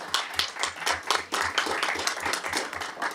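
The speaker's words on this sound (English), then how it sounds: "Let's give her a round of applause." A crowd at a board of education meeting claps steadily in sustained applause, fairly close and loud, with no voices over it.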